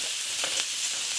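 Sliced red and green peppers with onion fry on a grill, giving a loud, dense, even sizzle with a couple of faint scrapes partway through.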